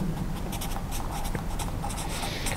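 A pen scratches across paper during a maths lesson, a quick series of close, steady strokes over a constant background hum, with no speech.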